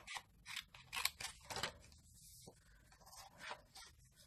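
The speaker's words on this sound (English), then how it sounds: "Then you're just going to take your scissors and you're just going to trim along here." Repeated crisp snips of scissors cutting through paper, several quick cuts in a row, close and clear with no talking.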